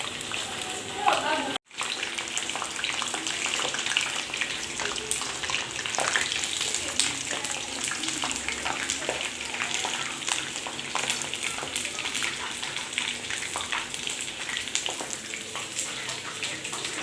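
Chicken pieces deep frying in hot oil give a continuous, busy sizzle and crackle, steady and close, broken once by a brief cut near the start.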